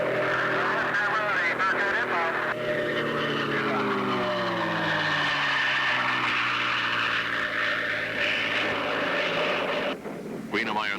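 Grumman Bearcat racing plane on a speed record run, its overheating piston engine droning loud and steady with a pitch that slides and wavers, continuous for the whole stretch before dipping near the end, with a commentator talking over it.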